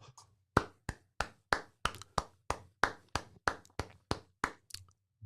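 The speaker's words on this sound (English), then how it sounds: "That brother deserves an applause." Audience applause comes as rhythmic, evenly spaced claps, around fifteen crisp, close hits in a steady beat with clean gaps between them and no voices.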